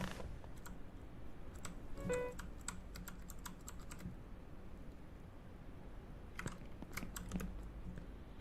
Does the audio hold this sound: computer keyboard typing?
yes